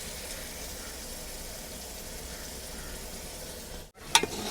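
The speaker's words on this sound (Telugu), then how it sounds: "ఉడకబెట్టిన కాకరకాయ ముక్కలు వేసేసుకుందాం" Boiled bitter gourd pieces go into hot oil with browned onions, giving a steady close sizzle and frying hiss throughout, with a brief dip and a couple of sharp clinks near the end as the pan is stirred.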